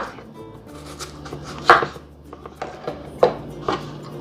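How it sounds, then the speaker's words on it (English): A knife chops peeled potatoes on a board before boiling, giving a few sharp irregular knocks close up with a soft background hum and no speech. "So you just want to go ahead and cut them up so they can boil evenly."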